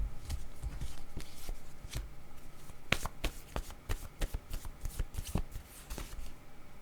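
A deck of tarot-style cards shuffled by hand, giving a close, continuous riffle of papery flutters and sharp slaps at an uneven rhythm.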